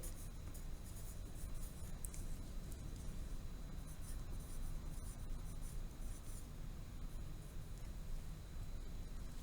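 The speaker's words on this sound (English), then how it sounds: "So I need to write the word Feb." A pen or pencil writes a word by hand during a grammar lesson, producing a steady, close scratching and rubbing that runs continuously without pause and with no talking.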